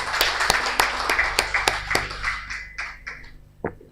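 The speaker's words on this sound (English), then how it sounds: "Let us give the panel a resounding round of applause." Applause for a panel at a criminal law review conference, a small room of sharp individual claps that ring out irregularly and thin to a few scattered final claps.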